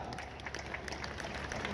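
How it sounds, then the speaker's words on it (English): Audience applause at a school event at Trinity College Nabbingo: a brief, steady patter of many hands clapping. "May you kindly applaud Lisa"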